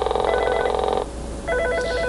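Office telephones ring for an incoming door box call, two electronic trilling bursts separated by a short pause, loud and close with no talk.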